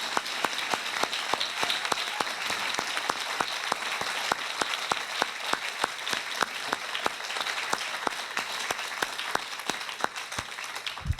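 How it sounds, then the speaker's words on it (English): A single sharp clap repeats at a steady beat throughout while faint room noise and a low hum sit underneath, in a hall after a panel conversation with fellowship class members. "Let's have an amazing round of applause for these awesome people."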